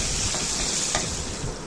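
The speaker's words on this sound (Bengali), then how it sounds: "আবার নেড়ে চেড়ে রসুনগুলো হালকা লালচে ভেজে নেব।" Garlic and dried chilies fry in oil in a wok with a short, even sizzling hiss. It is close and constant, with a brief scrape partway through.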